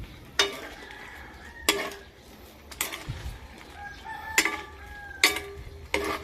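Shrimp being stirred with oyster sauce in a pan: about six sharp utensil scrapes and clatters at uneven intervals over a low sizzle, close and moderately loud, with tonal background sounds in between.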